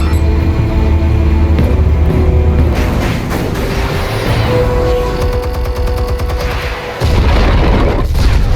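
Explosives detonate in Batman: The Telltale Series, a game scene of loud, dense booms and rumbling blasts over a sustained roar, with a brief dip near the end before another heavy surge.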